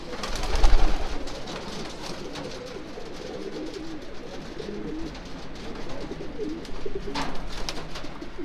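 A 2012 racing pigeon cock coos in a small loft, with soft repeated low coos that swell near the start and again toward the end, close by over a quiet background.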